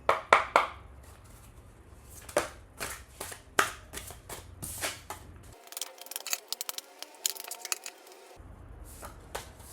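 Tarot cards being shuffled close up, a run of crisp riffling snaps and flicks in quick irregular bursts, fairly loud with no voices.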